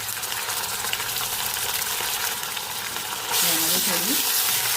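Garlic and curry leaves frying in a pan, a steady hiss of oil that swells louder and brighter toward the end as the leaves go in. A voice is faintly audible underneath.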